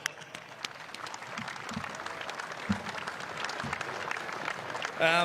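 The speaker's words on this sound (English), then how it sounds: "that deserves a round of applause" Steady applause from an audience at a VFL premiership celebration fills the space at moderate volume, scattered claps standing out, with a brief voice near the end.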